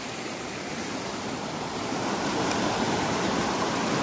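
Mountain creeks rush through a bedrock canyon near where two streams converge, a steady broadband roar of flowing water that swells slightly louder partway through, close and continuous with no voices.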